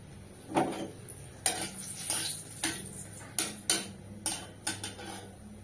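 Whole bay leaf, cardamom, clove and cinnamon dropped into a hot pan, making a series of sharp clinks and taps from utensil against metal. Faint sizzling runs under the clicks at close range.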